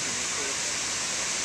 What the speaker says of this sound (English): It's just pouring over that dike like crazy.